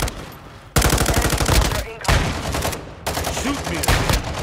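Rapid automatic gunfire from the video game Warzone, loud and close, with three sustained bursts separated by short gaps.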